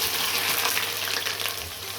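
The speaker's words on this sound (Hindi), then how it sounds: "हमने आधा कप ऑयल ले लिया है और इसमें जाएंगे 2 बड़े बड़े लार्ज साइज़ के प्याज" Two large onions fry in half a cup of hot oil for a beef and potato curry, a dense, loud, continuous sizzle close up with no talking.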